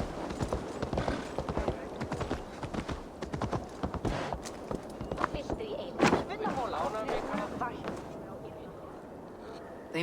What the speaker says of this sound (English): get back on our horse, and we can ride into the village